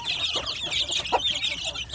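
Free-range village chicks in a rearing box keep up a busy stream of high, thin peeps and chirps, close by and overlapping with soft clucks, with no talk over them.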